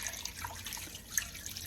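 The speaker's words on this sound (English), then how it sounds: "Add in 6 cups of water." Six cups of water pour into a pot of meat for pozole rojo, a soft continuous splashing trickle with small drips, close and fairly quiet, no voices.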